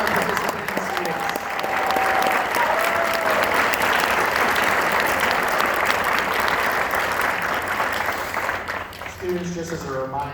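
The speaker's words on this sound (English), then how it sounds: "Again, a thunderous round of applause for all of our participating students." An audience applauds loudly after a school band concert, a thick wash of clapping sustained for about ten seconds with crowd noise mixed in, and a voice starts speaking at the close.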